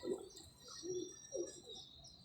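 Three low, soft coos from a zeeri hen pigeon kept for sale, spaced about half a second apart, faint and fairly distant, with light chirping and no speech.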